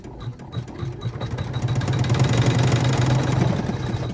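An embroidery machine stitches out a clutch, its motor whirring steadily and close by, building from a lighter start into a dense, continuous mechanical hum with no talk.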